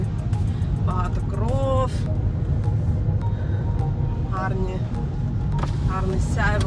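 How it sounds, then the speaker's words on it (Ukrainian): A Kia Ceed rolls along a rough, uneven road in Moldova, producing a steady, close low rumble of tyres and engine. A voice talks intermittently over the constant road noise. "Дорога не дуже гладка, да, але машинка їде рівно"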